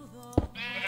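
A Minecraft sheep gives one short bleat, followed by a brief scuffling thump and then a soft, hissing background.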